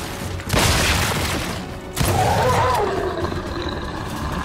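Two heavy, booming shotgun blasts from Gears of War 5 go off about a second and a half apart, each followed by a rumbling tail under loud game ambience.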